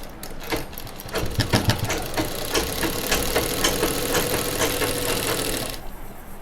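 A sewing machine stitching the hem of a nighty, rapid rhythmic clatter that starts up, runs steadily for several seconds close by, then stops abruptly, with no voices.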